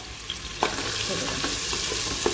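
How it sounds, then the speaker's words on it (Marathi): Three medium chopped onions frying in a pan for mutton biryani, a steady close sizzle with a few soft stirring clicks and scrapes throughout, no voices. "आणि आता ते चांगले म्हणजे चांगलं फ्राय करून घ्यायचं आहे"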